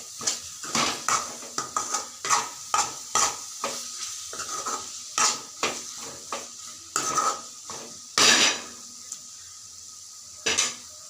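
Prawn fry with coriander stirred in a pan, a spoon scraping and clanking against the metal in irregular bursts over a faint steady sizzle, no voices.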